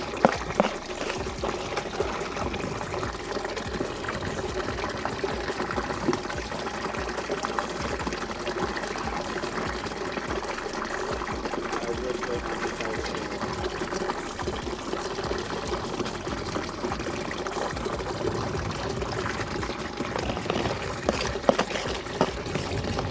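Water pouring and splashing steadily through a recirculating gold prospecting sluice, a continuous close broadband rush with small gurgles and bubbling throughout, no voices over it.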